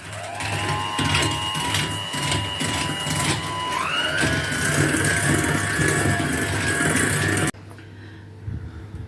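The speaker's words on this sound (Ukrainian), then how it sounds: "Збиваємо два яйця, два яйця додаємо відразу наш цукор і збиваємо міксером до пишної маси." An electric hand mixer whirs steadily while beating two eggs with sugar to a fluffy mass, its motor pitch rising partway through before it cuts off and leaves quiet background.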